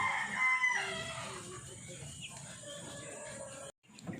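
Barred Plymouth Rock chicks, about three days old, peep in high, scattered bursts, loudest at the start and fading into softer cheeping against a low background hum.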